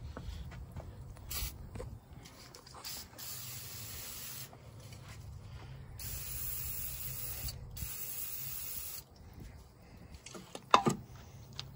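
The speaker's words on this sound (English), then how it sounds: "Spray it with PB." Short bursts of PB penetrating oil spraying from an aerosol can hiss in repeated blasts with pauses between, followed by a faint metallic clink near the end, during work on a Silversides bus.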